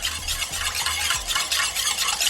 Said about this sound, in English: All right, so I'm gonna whisk.